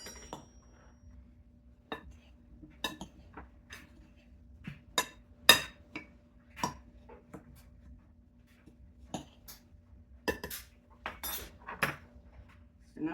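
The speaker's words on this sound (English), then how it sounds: "Actually, I'm gonna give it a stir first." Spoon scraping and clinking against a bowl while stirring apple crisp topping of butter and cinnamon, a series of sharp, irregular taps and scrapes close by with quiet pauses between.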